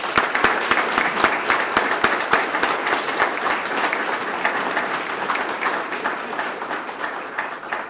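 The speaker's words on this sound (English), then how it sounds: "Let's all give the new sergeant a round of applause." An audience applauds a newly promoted police sergeant at a swearing-in and promotion ceremony, with loud, close, distinct claps at first that blend into a dense, steady ovation and taper slightly toward the end.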